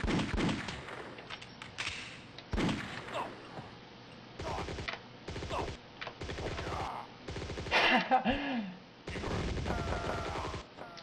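Gunfire in the video game Malice comes as repeated bursts of shots, close and fairly loud, broken by short gaps, with mechanical clanks and game effects mixed in.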